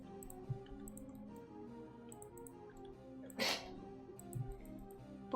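A single sudden sneeze bursts out near the middle, loud and close over a quiet background of low hum and faint game sounds.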